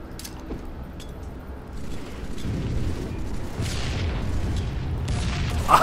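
Grenade explosions in the Halo 3 video game: a run of deep, rumbling booms that rise into a dense, continuous roar of blasts and gunfire-like crackle, ending on a sharper, louder burst.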